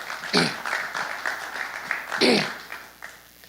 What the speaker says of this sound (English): Give Representative Love a round of applause.